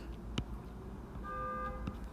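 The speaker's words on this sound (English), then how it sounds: "Someone is honking like crazy out there." A car horn honks outside on the street, muffled and fairly faint as if heard through a window, giving one short sustained toot amid quiet room noise.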